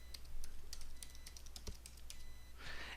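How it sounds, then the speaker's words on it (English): Computer keyboard typing, a steady run of quick, light key clicks close up with brief irregular pauses, ending in a short louder burst; no voices. "I'm going to type in the host name again, ctec.clark.edu, the port number 22"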